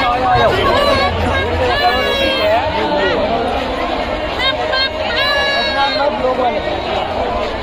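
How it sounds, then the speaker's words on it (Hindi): Large crowd gathered at the Dussehra ground in Kota, Rajasthan, a dense continuous babble of many voices with shouts and chatter filling the space, loud and close throughout. "बहुत ज्यादा भीड़ हो रही।"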